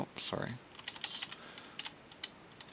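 Typing code on a computer keyboard: a few faint, scattered key taps at a distance, with a brief voice at the start and a quiet room background.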